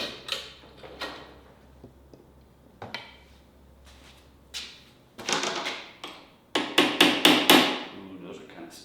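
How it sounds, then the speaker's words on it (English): Hammer blows drive inserts out of a KTM 525xc motorcycle part: sharp metallic strikes, first scattered single hits, then tight bursts of rapid repeated blows close by, with no talk. "Probably need to hammer these inserts out before we go any further."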